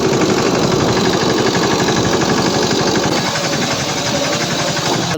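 A tractor engine runs nearby at a farm field, loud and steady with a rhythmic chugging knock, continuing unbroken throughout.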